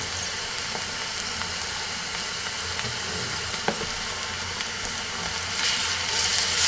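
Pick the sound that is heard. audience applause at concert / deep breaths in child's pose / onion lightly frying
onion lightly frying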